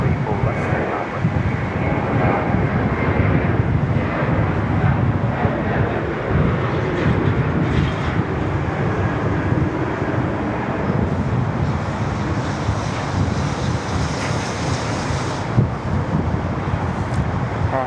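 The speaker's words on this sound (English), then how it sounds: "should we just bathe in the glory that is the 777 just for a moment?" An Air New Zealand Boeing 777 airliner at Sydney Airport roars steadily through the whole stretch, a broad, continuous jet rumble with wind noise buffeting the microphone and voices faintly underneath.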